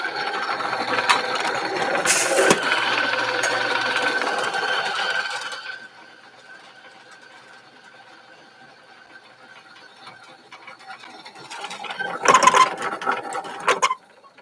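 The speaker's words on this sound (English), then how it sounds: "All right, so let's start grinding." A coffee grinder grinds beans at a coarse setting for a Pulsar brewer, with a steady loud mechanical whir that fades to a quieter hum, then a rougher burst of grinding near the end.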